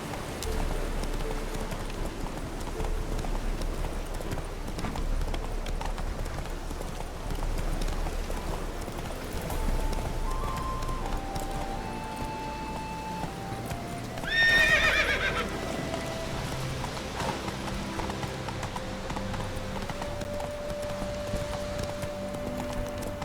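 Roach the horse in The Witcher 3 video game, with hooves clip-clopping steadily throughout and a whinnying neigh rising midway, heard against a dense bed of game music and ambience.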